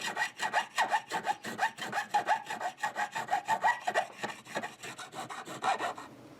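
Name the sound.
filing guitar frets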